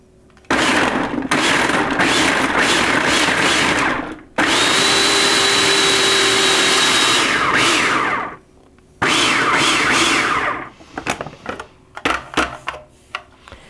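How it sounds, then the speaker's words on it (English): A food processor pulsing carrot down to a fine grate: three long, loud motor bursts separated by brief pauses, followed by a few short, choppy pulses that fade off. "So I've added my carrot to my food processor, and now I'm just going to give this a pulse until it's finely grated."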